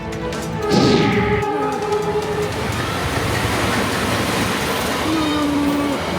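The Wijaya Kusuma train from Surabaya to Purwakarta rumbles loudly past with a continuous roar of wheels on track, a horn-like tone sounding early and a brief squeal near the end.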